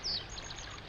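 A single high, thin bird chirp sounds near a lake among water birds such as coots and a pied wagtail, followed by faint twittering over a soft watery background.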